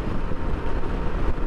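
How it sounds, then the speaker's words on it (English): Strong, steady wind rushing past a rider on a BMW K1600 motorcycle on the highway from Midland to Dallas, a dense continuous roar with no speech. "it's already starting to get really windy"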